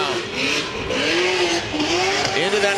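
Pro 2 race vehicle at full throttle during 2018 qualifying in Texas, its loud exhaust note climbing and wavering in pitch as the engine is held flat out, with a commentator talking over it.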